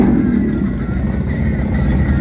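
Harley-Davidson Nightster and Sportster motorcycles drag race, with a loud, continuous engine roar close by throughout.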